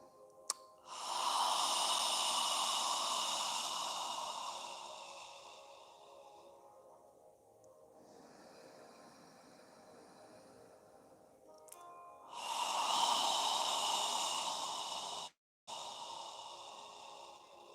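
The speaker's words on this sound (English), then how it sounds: "As you exhale, imagine you're fogging a mirror with your breath." Slow, throaty yoga exhales hiss out like fogging a mirror, two long breaths of several seconds each separated by quieter inhaling, close and soft with no talking.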